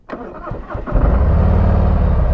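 A 2023 Harley-Davidson Street Glide motorcycle is started: the starter whirs and cranks for under a second, then the engine catches into a loud, deep, lumpy idle up close.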